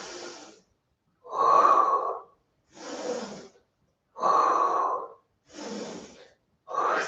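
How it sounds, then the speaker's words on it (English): Heavy breathing during an intermediate pilates exercise: six alternating inhales and exhales, each close and loud and about a second long, separated by short silences, with no talk. "You're going to inhale and exhale."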